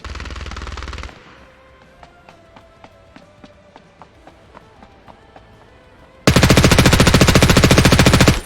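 Video game gunfire opens with a loud automatic burst, gives way to a run of scattered single shots and footsteps at a distance, then ends in a very loud, close, sustained automatic volley.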